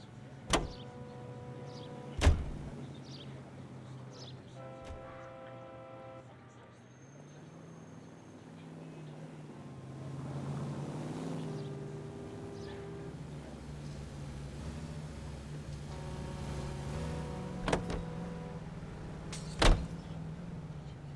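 A car driven in the video game L.A. Noire: a steady low engine drone that swells midway through, broken by a few sharp thumps and clicks like a door or handling sounds.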